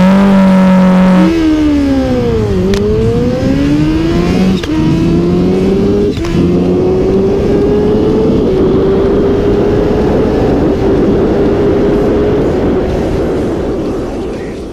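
A Kawasaki H2 motorcycle pulls hard down a quarter-mile drag strip, its loud engine note rising through several quick gear changes and then holding a long, strained climb as the bike speeds away.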